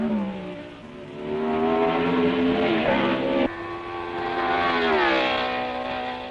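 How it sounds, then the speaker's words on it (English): Racing cars at the 1962 French Grand Prix at Rouen roar past in sustained, wailing engine notes, one pitch sliding and shifting abruptly midway as another car rises in, fairly loud and continuous without speech. "Nothing can touch the Porsche now, for Surtees too is in trouble"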